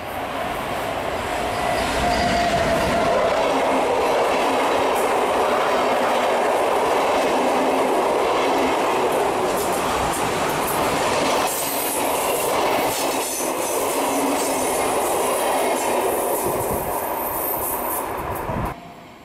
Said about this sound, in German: Im Abendlicht erreicht ein Zug aus Bergen die Ausläufer der Ortschaft Geilo.